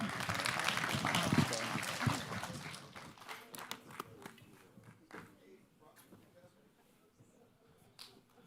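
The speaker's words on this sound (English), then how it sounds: "So again, a round of applause for our audience" Audience applause after a panel session at a conference on HIV and the politics of race, a burst of clapping that is loudest in the first three seconds, then thins out to scattered claps and a few sharp individual hand claps.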